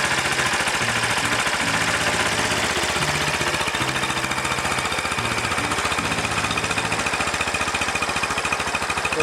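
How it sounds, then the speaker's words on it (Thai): A loud, steady Kawasaki Boss 175cc motorcycle engine idle with a rapid, uneven thumping rhythm, continuous and close, with no voices. "ฟังเสียงเครื่องเลยครับ"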